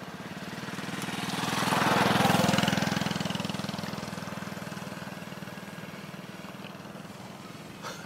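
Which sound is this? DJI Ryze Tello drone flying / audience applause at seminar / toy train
DJI Ryze Tello drone flying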